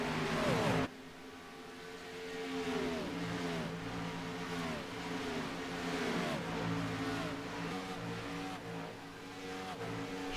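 Race cars lapping a track during a USRC JTT Series race on reduced fuel, engines revving and rising and falling as cars pass one after another in a steady loud stream, with no talk.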